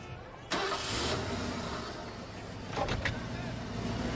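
A car starts and idles with a steady mid-pitched engine drone, marked by a sharp mechanical clunk near the start and a few clicks later, heard from close by.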